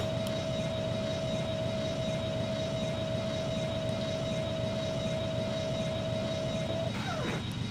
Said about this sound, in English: Plane is picking up speed very quickly